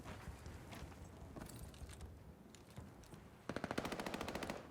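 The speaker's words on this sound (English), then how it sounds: "More second set of shots coming through now." Gunfire in a competitive tactical shooter match: scattered single shots followed by a rapid, evenly spaced automatic burst, fairly faint with some background game noise.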